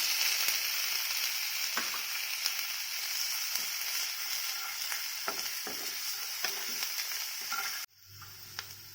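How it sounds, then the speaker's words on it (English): Chopped capsicum sautéing in a hot pan for paneer cutlets crackles and sizzles steadily up close, with small pops and stirring scrapes, until the sizzle abruptly drops away near the end. "Saute it. Then I'll add chopped capsicum."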